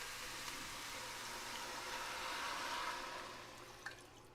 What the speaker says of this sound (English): So I am adding about 7 cups of water.